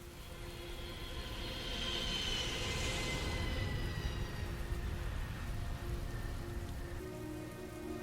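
Steady, heavy rain pours throughout a cinematic in the video game Heavy Rain, a dense wash of drops close by with soft tonal music lines running underneath; no one speaks.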